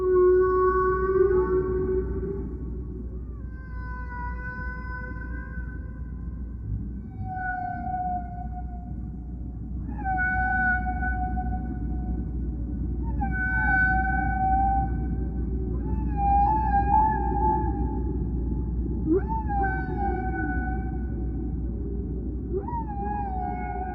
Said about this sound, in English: They produced an album of songs they recorded from critically endangered